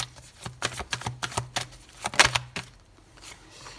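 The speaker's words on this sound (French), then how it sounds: "Alors, on laisse sauter la carte." Tarot cards shuffled by hand until one jumps out, heard as a quick series of close, papery riffles and taps, ending with a sharper flick and then quiet; no talking.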